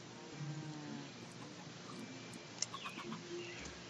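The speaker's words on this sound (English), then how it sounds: "Come on, little sheep." Faint bleats from sheep in the video game Minecraft, a few soft calls over quiet background ambience with no one talking.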